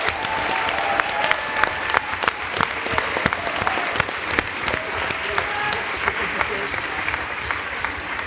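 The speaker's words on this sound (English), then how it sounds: "So please give Ian and his team a round of applause" Dense, sustained applause from the audience at a transatlantic debating championship final, even and continuous with sharp individual claps standing out, and no talk over it.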